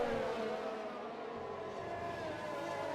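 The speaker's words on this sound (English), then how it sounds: "We've got a load of motorbikes coming past the house." A group of motorbikes passing outside a house, heard as a steady, fairly faint engine drone with shifting tones that sustains throughout, muffled as if through walls.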